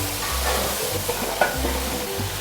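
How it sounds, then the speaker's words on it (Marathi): Garlic paste and whole spices frying in oil in a pan, a steady close sizzle with occasional stirring scrapes and small pops, no talking. "फ्राय करून घेऊया"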